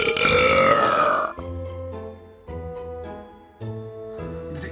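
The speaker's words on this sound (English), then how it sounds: "It's a festive belch." A loud, drawn-out festive Christmas belch rolls out close to the listener in several croaking surges. It opens with a rising, rasping burst and then breaks into deeper pulses with short pauses between them.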